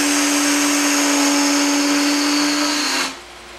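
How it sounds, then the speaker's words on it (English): A spindle gouge takes a shallow cut on a spinning wood lathe, giving a steady, loud, high whining tone with a constant motor hum underneath. The sound runs without pause for about three seconds, then drops off sharply near the end. "we're going to crank up the speed a little bit, and starting with a spindle gouge. It's going to take about 1/8 of an inch cut."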